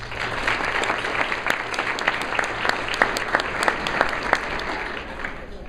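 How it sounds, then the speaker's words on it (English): Audience applause at an evening event for parents, family members and supporters, with steady, full clapping and distinct individual claps standing out throughout, some voices faintly underneath. "So give yourselves a round of applause."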